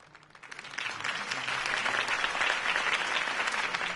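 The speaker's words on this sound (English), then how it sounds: "If only Mr. Wayne, my campaign's largest backer, could have heard that applause" Applause from a crowd in the Batman: A Telltale Series video game, swelling quickly from a soft start into steady, dense clapping that holds at full volume, with no talking over it.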